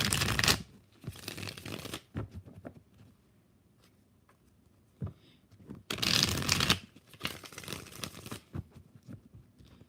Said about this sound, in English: We'll just shuffle this thing 2 times.